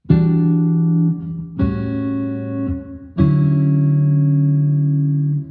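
Three sustained guitar chords ring out one after another, each struck cleanly and left to sustain, forming a slow jazz 2-5-1 progression.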